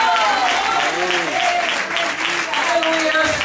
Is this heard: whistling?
no